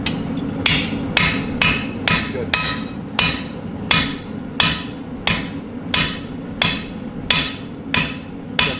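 A hammer forges a sword blade in a steady rhythm of about a dozen sharp, ringing strikes close up, roughly one per second over a low background rumble, with a brief spoken word.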